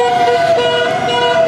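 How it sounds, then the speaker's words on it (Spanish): Vehicle sirens and horns blaring from a slow convoy of cars in a peaceful health workers' protest in Mar del Plata, a loud continuous wailing tone held close without pause. "simplemente salir con los autos y hacer sentir sus sirenas, sus bocinas"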